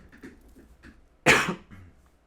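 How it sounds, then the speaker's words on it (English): One sudden, loud cough from a person bursts out after a stretch of quiet, muffled background noise, then fades quickly. "hold on, I'm going to cough"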